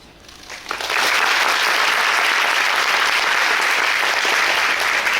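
Applause from a theatre audience at a musical's closing-performance curtain call swells within the first second into a dense, loud, sustained wash of clapping that continues evenly to the end.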